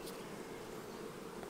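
Honey bees buzz around an open hive during a summer split, a dense, continuous drone of many insects, steady and close without any talking.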